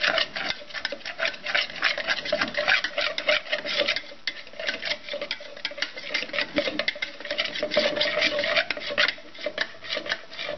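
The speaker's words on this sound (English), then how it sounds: "you don't want to stir it up like this in a bowl that's going to be short like that" A spoon scrapes and rubs steadily against a bowl while stirring red colouring into syrup for homemade fake blood, a close, rasping, continuous texture with rapid irregular strokes and no talking.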